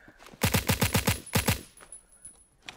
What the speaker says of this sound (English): Suppressor AKVSS. Oh, it sounds interesting.